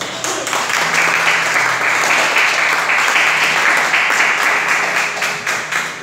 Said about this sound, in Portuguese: Podeis assentar, aplaudindo Jesus bem forte